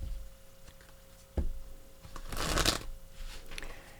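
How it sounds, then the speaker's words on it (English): Tarot cards shuffled close up during a weekly reading, a short soft tap followed by a dense, fluttering riffle of cards that rises and then fades, with no talking. "I'm going to do one more shuffle."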